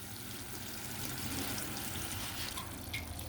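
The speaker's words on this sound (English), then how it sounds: "then I'm going to water it again real good" Shredded paper compost in a bucket being watered: a steady, close hiss of pouring and trickling water runs throughout without a break.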